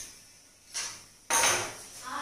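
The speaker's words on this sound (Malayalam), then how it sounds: "ഈ സ്പൂണോ ഫോർക്കാണ് ഉപയോഗിക്കുന്നതെങ്കിൽ ഒരു 20 മിനിറ്റോളം നന്നായിട്ട് മിക്സ് ചെയ്ത് കൊടുക്കണം" A spoon mixing sugar and hot water for dalgona coffee in a cup, heard as two close scraping, clinking bursts against the container, with quieter gaps in between.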